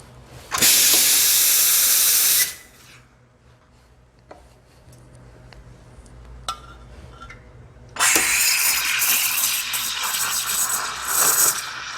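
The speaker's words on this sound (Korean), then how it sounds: "추출해놓고 스팀 치러 갑니다." An espresso machine steam wand steams milk in a loud, steady hiss for about two seconds. After a quieter stretch with small clicks, a longer hiss of steaming follows.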